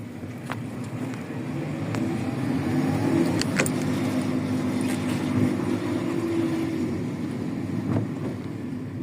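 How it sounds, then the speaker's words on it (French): A car engine revving after an air filter change, a steady mid-pitched drone that swells and falls, with a few short sharp hissy bursts from the blow-off valve releasing. "On entend déjà la DOP valve qui se déclenche"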